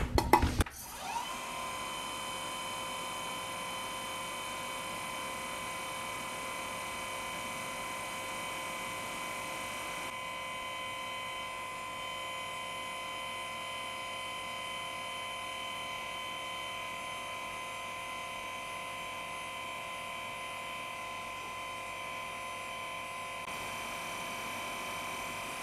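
A drill bores a 13 mm deep hole, thirteen times its diameter, into a small stainless steel part, giving a steady, even high-pitched whine that runs unbroken after a brief startup burst.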